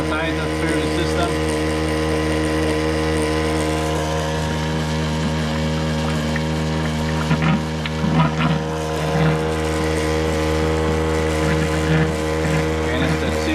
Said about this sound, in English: Pump the rest of the sanitizer through the system.